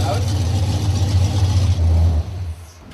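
A 1968 Dodge Charger gives a deep, steady engine rumble with a throaty low exhaust note for about two seconds, then drops off and fades.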